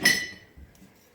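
A metal whisk clinks against a mixing bowl while combining flour, salt and other dry ingredients for rolled sugar cookies, giving one bright, close clink that fades, then a few soft scraping taps.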